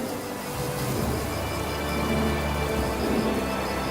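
Steady, heavy rain falls across the African savanna in a dense, unbroken hiss, with a low rumbling undertone that swells slightly partway through.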